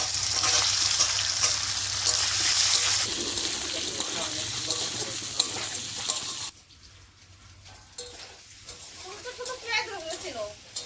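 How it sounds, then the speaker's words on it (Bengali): Potatoes fry in a pan for a Bengali vegetarian paneer dish, giving a steady bright sizzle with stirring for several seconds before it suddenly drops to a quieter, uneven crackle. "আমি আলুগুলো দিয়ে দিচ্ছি। আলুগুলো ভালো করে ভেজে নেব।"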